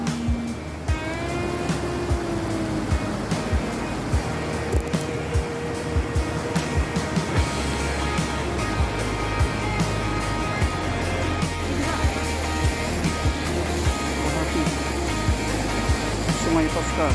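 Water of the Tosca river, its water a turquoise colour, flows in a steady broadband rush near a crater camp and trekking trail in Cidahu, Sukabumi, with people talking over it throughout.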